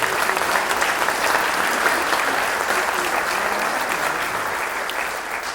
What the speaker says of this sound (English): Let's give him an applause even though he's not here